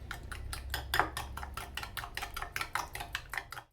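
Rapid, steady whisking of milk and sugar in a pot for halwa, a near metallic ticking of whisk against the pot's side that keeps going with no voice heard.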